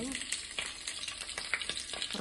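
Oil sizzles and crackles steadily in a pan with raw mango pieces frying, with a few light stirring sounds, fairly quiet and close.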